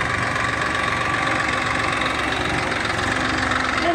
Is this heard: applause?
no